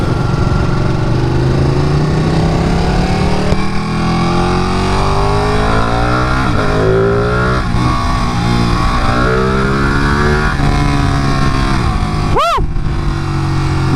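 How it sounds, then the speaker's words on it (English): A motorcycle engine is throttled hard and loud, with rising and falling revs sweeping up and down in repeated pulls over a steady rumble, plus a brief sharp whine burst near the end. "Nothing like throttling this bike."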